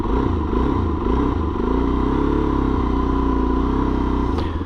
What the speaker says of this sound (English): So I actually start it without the choke.